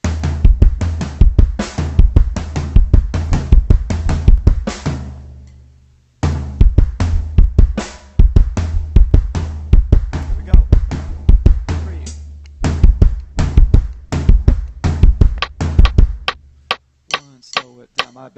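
Close-miked drum kit works through kick doubles and triplet fills, with dense rapid snare and tom strokes over thumping bass drum, a short pause midway, then the pattern resumes and thins into lighter taps at the end.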